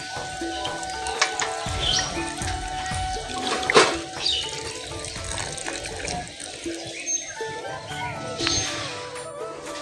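Water poured into a pot for potting aloe vera plants, a steady running splash and trickle with faint birds and background noise, no talk.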